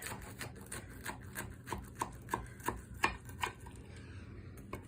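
A knife chops through a cooling batch of marshmallow Rice Krispy treats in a steady series of about a dozen crisp, close cuts, each with a sharp tap on the board, heard in a quiet room.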